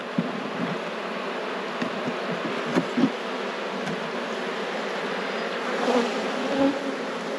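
Honey bees buzzing at an open hive make a dense, continuous drone close by, with a few faint knocks over the steady hum.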